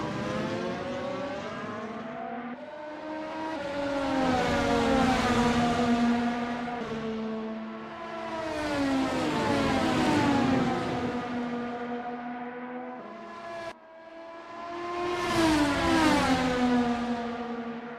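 Race cars in a racing video game on a hill track, engines revving and whining through rising and falling pitch sweeps as cars pass, with a brief gap before another close, loud acceleration.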